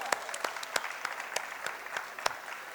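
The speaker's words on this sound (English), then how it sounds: "So big clap for him." An audience at a prize distribution applauds a student with scattered clapping, a few louder sharp claps standing out from a soft, continuous patter of hands.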